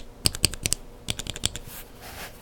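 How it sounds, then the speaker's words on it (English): Mechanical keyboard switches with TTC Black housings and Kailh Burgundy stems are typed on in two quick bursts of crisp, close clacks, roughly four and five keystrokes, followed by a faint tail of room noise. "This is a TTC Black housing. I think it's a little bit quieter than the Cherry housing."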